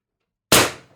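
A single sharp shot from a Pistelle X-68 Punisher blaster fitted with a Huben power stock and an ADN X18 drum magazine. The crack is loud and close, then decays quickly, with silence before it.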